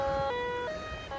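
A cheap $150 metal detector, damaged by salt water, wails with a steady siren-like electronic tone that steps between pitches, loud and continuous with no voices.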